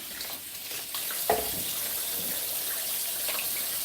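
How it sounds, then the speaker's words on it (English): Beetroots scrubbed under a running kitchen tap, a steady stream of water splashing into a sink with a brief rub or knock partway through, close and continuous. "Another scrubbing round to keep it clean."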